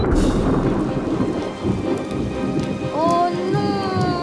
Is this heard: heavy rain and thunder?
yes